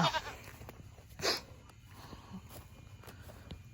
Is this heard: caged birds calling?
no